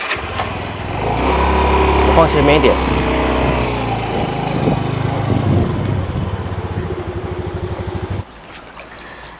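A motorcycle engine runs steadily during a ride, giving a loud, continuous hum that eases partway through and cuts off near the end, with people talking over it.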